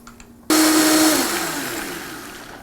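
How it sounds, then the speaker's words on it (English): A kitchen blender blending hummus roars to life suddenly after a quiet moment, then keeps running loud and steady, its pitch drifting down slightly as the mixture churns. "we're ready to blend"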